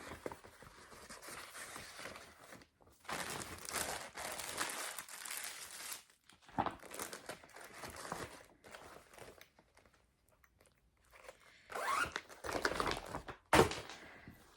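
Intermittent crinkling and rustling of plastic, close and soft, coming in bursts separated by brief quiet gaps.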